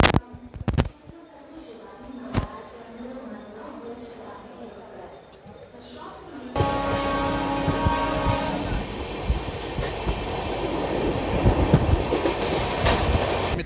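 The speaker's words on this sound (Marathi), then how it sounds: "तर मित्रांनो, आता ठाणे रेल्वे स्टेशनवरून गाडी डिपार्चर होत आहे." Mumbai–Madgaon Jan Shatabdi Express pulling out of Thane station: a quieter start with a few sharp knocks, then a sudden jump to louder steady rolling rumble and clickety-clack of the carriages.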